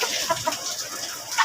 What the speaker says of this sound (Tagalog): Ayan po mga manok natin